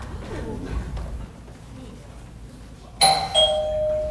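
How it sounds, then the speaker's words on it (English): A two-tone doorbell chimes clearly after a stretch of quiet room noise and faint voices, its ringing tones lingering briefly. "Is that the library doorbell or the main doorbell?"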